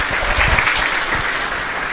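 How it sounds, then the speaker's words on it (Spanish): Congregation applause during a Catholic Mass in a church: a brief, dense burst of clapping from many hands, steady and fairly loud throughout with no talking over it. "Un aplauso también para ellos."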